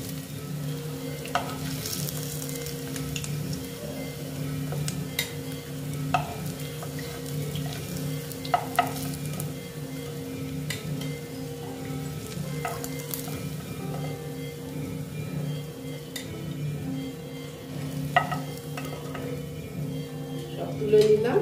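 Potato and flattened rice breakfast sizzles steadily as it fries in a pan, with occasional scrapes and clinks as pieces are lifted out; a voice speaks now and then over the constant crackle.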